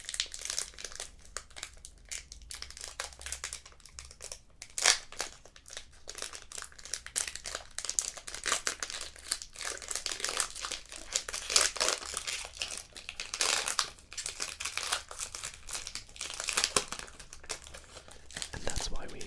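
Close crinkling and tearing of a plastic Pokémon card pack wrapper by hand without scissors, irregular bursts of crackle continuing for many seconds.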